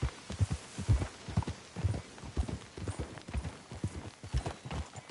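Horses walk in Red Dead Redemption 2, their hooves clip-clopping in a steady, close, moderately loud rhythm with no talk over them.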